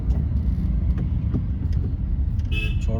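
A car engine hums steadily at low pitch throughout a driving lesson, with clutch control in first gear; a short tonal horn-like toot sounds near the end, no speech.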